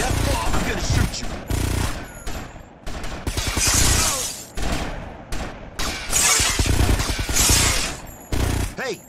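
Gunfire in the video game GTA Vice City Stories, loud repeated bursts of rapid shots with cracking, shattering impacts coming in clusters across the whole stretch, with little pause between volleys.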